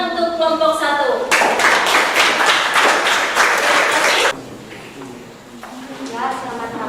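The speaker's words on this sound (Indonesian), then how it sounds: "beri tepuk tangan untuk kelompok 1" A classroom group claps together in a burst of several seconds of dense, loud applause, then it cuts off abruptly and the room turns quiet, with voices heard before and after.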